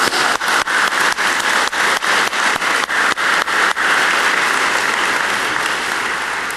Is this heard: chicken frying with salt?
no